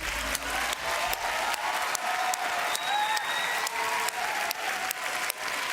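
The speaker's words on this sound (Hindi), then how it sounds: "एक बार और जोरदार तालियां।" Loud, dense applause from a television talent-show audience, continuous and close, with faint tonal music or cheers running through it and no speech on top.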